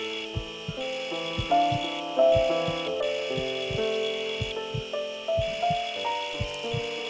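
Bone saw cutting during a surgery in the video game Surgeon Simulator, a rasping, rubbing stroke repeated in quick uneven bursts over a melodic music bed, with no talk.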